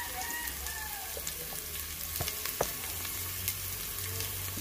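Garlic sautés in a pan at the start of a beef caldereta, giving a steady close sizzle with occasional sharp crackles and a scrape of stirring.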